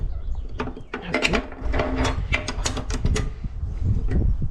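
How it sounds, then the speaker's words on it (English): A Bosch table saw blade bolt being tightened with a lever, a quick run of sharp metallic ratcheting clicks and taps, close and fairly quiet, with no voices. "Pull your lever with the red rubber end till it's tight,"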